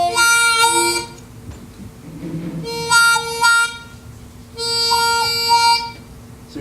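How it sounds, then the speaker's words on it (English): Harmonica wah-wah effect made by opening and closing cupped hands around the instrument: three bright, reedy swells that rise and fall in a slow pulsing rhythm, played alone at close range. "Very important to do this because later it will allow you to do what's called the wah-wah effect,"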